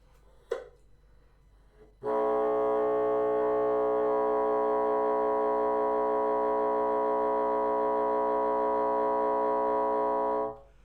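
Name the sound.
saxophone multiphonic with low C and whisper key lock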